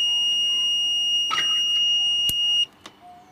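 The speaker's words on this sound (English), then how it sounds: "if I wanted to measure current and I had the red probe in that hole, it's going to beep at me" An ISO-TECH IDM99III digital multimeter sounds a steady high-pitched warning beep for probe misplacement, a continuous electronic tone lasting over two seconds with faint clicks before it cuts off.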